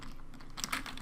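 Quick, light keystrokes on a computer keyboard as a command is typed into a game chat, a short close burst of clicks with no talking.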